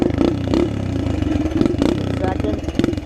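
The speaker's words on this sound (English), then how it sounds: "go second gear and just like clutch in and rev a little bit" Small, worn-out dirt bike engine revving in second gear with the clutch pulled in, a close, loud, steady buzzing drone with rapid rhythmic pulsing throughout.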